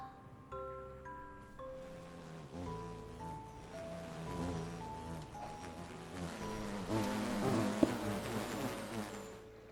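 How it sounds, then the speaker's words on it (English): Bee swarm sound effect near a hive in the Sandbox modpack video game, a low continuous droning buzz that swells and thickens midway, heard over soft layered ambient game music. "you get like a swarm sound effect"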